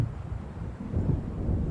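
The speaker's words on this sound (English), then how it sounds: "It seems there's a storm coming." Distant rolling thunder of an approaching storm in the game Alan Wake, a low continuous rumble over wind and surf that swells slightly toward the end.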